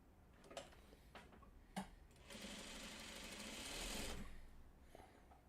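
Sewing machine stitching a Four Winds quilt block, a few light clicks and taps first, then a rapid, even mechanical whir of stitching for about two seconds before it stops; quiet and close.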